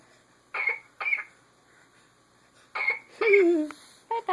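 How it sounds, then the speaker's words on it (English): A baby gives several short, raspy coughs and throaty hacks in separate bursts, close by, with brief pauses of near silence between them. "Enough of that baby coughing."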